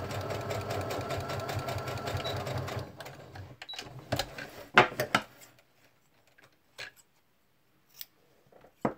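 A sewing machine runs in a quick, rattling burst as it stitches a seam on paper-pieced fabric, then stops, followed by scattered clicks and light handling sounds.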